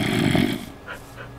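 A dog in a video game makes a brief low growling, breathy sound, fairly close and moderately loud, fading after a second into quieter scattered noises.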